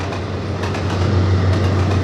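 Intercity 125 train running in the Trainz Plus simulator, a steady loud rumble with a strong low engine drone and faint rhythmic clatter underneath, continuous throughout.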